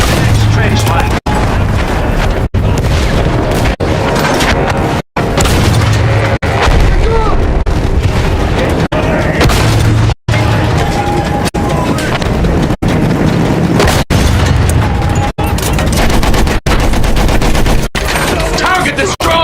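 Heavy Battlefield 1 trench combat as a field gun is destroyed: loud, continuous rifle and machine-gun fire with repeated booming explosions, sharp impacts punctuating the din, and voices shouting over it.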